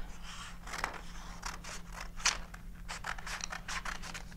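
Scissors snipping the excess end off a strip of paper during a preschool craft, a series of short crisp cuts in an irregular rhythm, close and fairly quiet.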